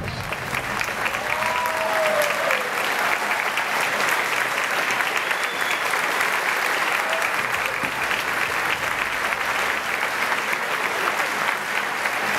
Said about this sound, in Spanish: Recibamos de pie y con un fuerte aplauso, con ustedes, Jürgen Klarich.